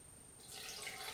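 Lukewarm water poured into a Philips HR 3655/00 blender jar over hazelnuts, a soft hiss that swells after a quiet start and runs steadily.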